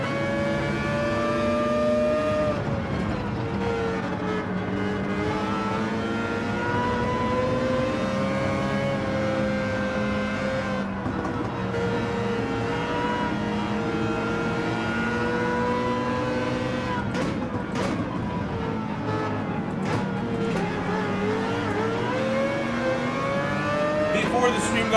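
A Mazda race car engine in Gran Turismo 7 at Fuji Speedway, revving continuously with rising and falling pitch through gear changes, loud and steady for the whole stretch.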